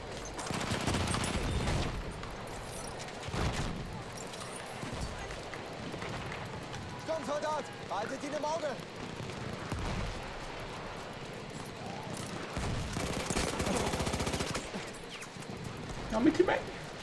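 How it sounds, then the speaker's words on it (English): Gunfire in the video game Battlefield 1, scattered bursts of shots and impacts rising at intervals over steady game ambience, with people talking in between. "When in doubt, start shooting in dark corners."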